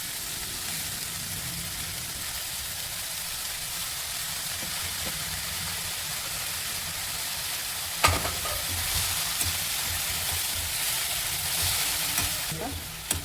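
Steady sizzling of small spinach leaves frying in a hot pan, with occasional clinks of a spoon stirring against the metal, no talking.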